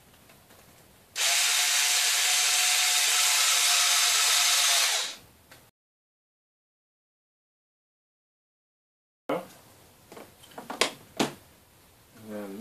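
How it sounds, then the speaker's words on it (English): A power drill drives bolts into a Mini Mamba V2 drone frame, giving one loud, steady whir of about four seconds. Silence follows, then a few sharp clicks and handling noises. "you can hold on to them and run the drill"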